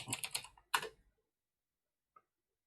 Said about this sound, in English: Type in my super user password.